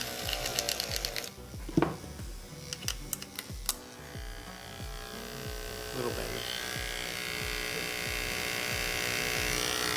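A freshly serviced electric hair clipper runs steadily with a faint buzzing hum and a small rattle from warped plastic, while a person talks over it at the start.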